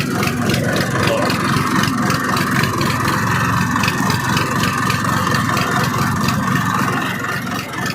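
A tractor engine runs at a steady idle-like drone at a salt works, loud and continuous with a low rumbling throb throughout.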